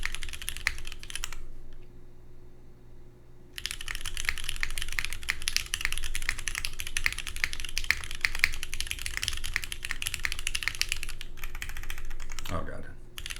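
Typing on an OC-62 mechanical keyboard fitted with KKB keycaps: a dense, rapid stream of close clacky keystrokes with a short pause near the start, and a brief voice near the end.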